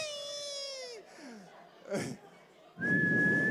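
A person vocally imitates a whistle with a falling, slide-whistle-like tone, then breathy sounds and a sustained high whistled note, with brief voices and laughter between.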